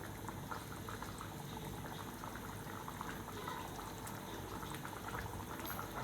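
Egg gravy simmers in a pan as egg slices are added, giving dense, steady bubbling and popping that continues evenly throughout without any voices.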